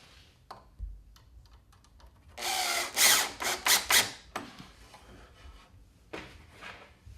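A power drill driving screws into an electrical receptacle box whirs in a few short, loud bursts close by, with scattered clicks and knocks before and after.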